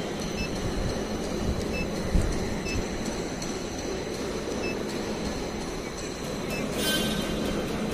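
A vacuum pump evacuates the air conditioning system of a Renault Kwid car, giving a continuous, steady, fairly loud mechanical drone with dense noise that holds without a break.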